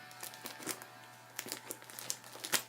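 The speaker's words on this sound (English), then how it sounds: "as I tear through the tape here without actually cutting the envelope" Packing tape tears and crinkles off a pink envelope in faint, uneven rips and scratchy bursts, close by and without talk.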